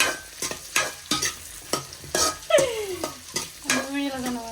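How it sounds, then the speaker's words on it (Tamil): Sliced beans and carrots are stir-mixed in a hot pan for chicken rice: rhythmic metal spoon scrapes and clanks over a soft sizzle, with a few ringing tones from the pan, close and fairly loud. "போஞ்சி, கேரட் எல்லாத்தையும் போட்டு மிக்ஸ் பண்ணணும்."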